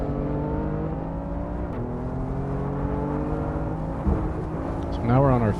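A BMW M4 lapping the Nürburgring, its engine droning steadily inside the cabin with pitch shifts through gear changes, a clunk near the end, and a rising rev as it pulls harder.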